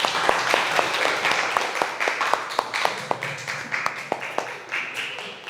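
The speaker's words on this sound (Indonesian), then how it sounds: "Kita kasih aplaus untuk kelompok 2" A classroom audience applauds a student group, a steady patter of many hands clapping close by with sharp individual claps standing out throughout.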